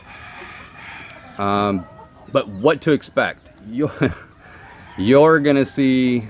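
Roosters crow in the background at a rural home, with several long stacked crowing calls mixed between and under a person talking nearby.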